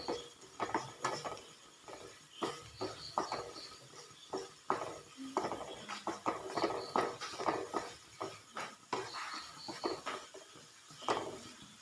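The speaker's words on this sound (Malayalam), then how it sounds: "നല്ലപോലെ ഇളക്കി യോജിപ്പിച്ചു കൊടുക്കുക" Beef curry with coriander powder stirred in a pot with a spoon, giving a steady run of scraping, clattering strokes and wet shuffles close by for several seconds.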